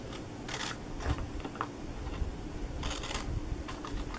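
Scissors snipping a small rectangular corner off the bottom of a cardboard pretzel box, giving a few short, crisp cutting bursts close up over a steady low background hum.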